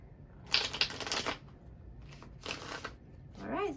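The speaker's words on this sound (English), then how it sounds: "One more shuffle for Scorpio in September 2023." Tarot cards shuffled by hand, several quick riffling bursts separated by short pauses, close and crisp, followed by a brief rustle at the end.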